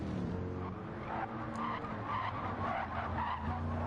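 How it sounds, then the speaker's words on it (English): Gran Turismo 7 Gr.3 race cars squeal their tyres at Fuji as a field of engines drones beneath, with spray coming off the wet track. The screech is loud and continuous for the whole stretch, and no one speaks. "Lots of tyre squeal."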